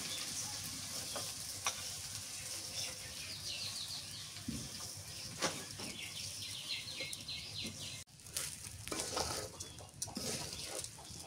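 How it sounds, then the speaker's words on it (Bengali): Rice fries in a pot for a country-style pulao with desi chicken, giving a steady close sizzle with scraping stirs mixed in and no voices. "চাউলটা ভাজা হয়ে গেছে"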